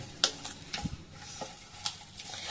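Finely ground green chili paste being mixed into a semolina mixture, heard as a series of quick scraping and clicking stirs with faint soft friction between them, close and quiet, no talking.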